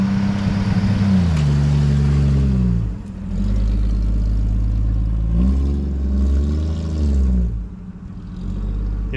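A 1962 Chevy II engine runs loud and close, revving up and settling back in rough, clattery swells over about nine seconds with no talk.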